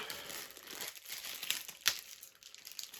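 A plastic bag crinkles and rustles during an unboxing, with continuous close handling and a couple of sharper crackles, heard alone and fairly soft.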